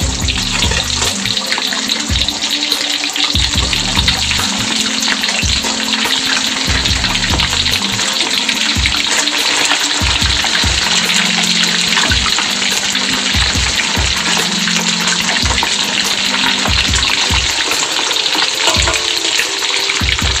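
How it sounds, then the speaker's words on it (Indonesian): Fish fries in a pan of hot oil with a loud, continuous sizzle and crackle throughout, with occasional soft bumps of handling, and no talk. "Oke, kita goreng sampai matang ya."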